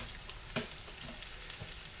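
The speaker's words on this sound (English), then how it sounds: "we're going to start to cook our bacon" Bacon fries in a pan for fried mac and cheese, giving a steady close hiss with small crackles and pops throughout. No talk is heard.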